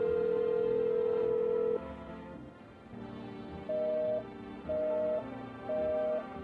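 Telephone call tones in a video game's phone roulette, a long steady dial tone followed by three repeating beeps of a busy signal, clear and alone.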